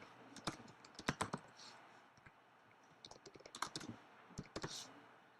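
Quick clusters of typing on a computer keyboard while entering a web address and label in a WordPress menu editor, the key clicks coming in short irregular bursts with brief pauses, fairly close and quiet.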